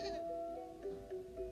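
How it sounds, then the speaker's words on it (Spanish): Sheep bleating in a sustained, wavering call with steady harmonic tones, fairly close and clear, with no talk over it. "las ovejas"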